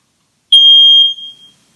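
A smoke alarm under test gives one loud, piercing high-pitched beep lasting about half a second, then rings out briefly in the quiet.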